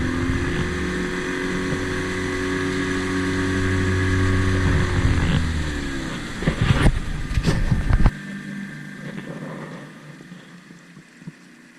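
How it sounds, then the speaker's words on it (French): A Mercury outboard motor on a boat on the Petit Rhône drones steadily, then surges in a rough burst of revving with wind buffeting before dropping off sharply to a quieter idle. "Un coup de gaz intempestif pour décrasser le moteur Mercury."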